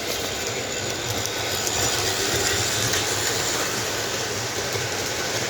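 A Weaver Alco C-630 model train locomotive runs steadily with a continuous rumbling, rushing mechanical noise and faint rhythmic clatter, loud and close throughout, with no voices.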